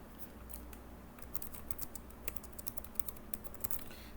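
Steady typing on a computer keyboard while adding tasks to a to-do web app, faint rapid key clicks in an uneven patter over a low hum, no talking.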